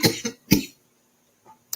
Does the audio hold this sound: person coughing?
yes